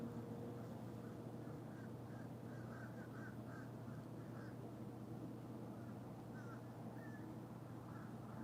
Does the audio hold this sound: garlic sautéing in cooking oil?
no